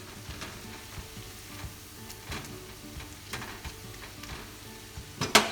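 Food sizzles and crackles steadily as it fries in a seasoned non-stick wok, with soft stirring scrapes and a few sharper clicks near the end.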